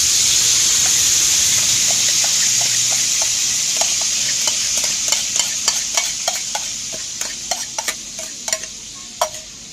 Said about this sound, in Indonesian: minyaknya udah panas, kita tumis bumbunya